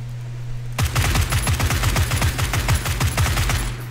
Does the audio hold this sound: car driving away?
no